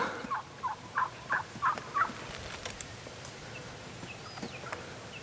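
Wild turkeys in a spring hunting setting gobble in a quick run of about six rising calls, fairly loud at first, followed by quieter outdoor ambience.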